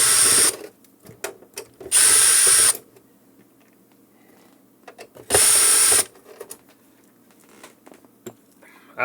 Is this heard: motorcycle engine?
no